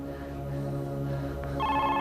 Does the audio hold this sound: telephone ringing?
yes